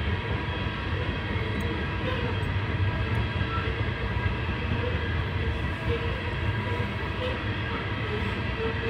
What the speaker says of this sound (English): Many, many, many good trains.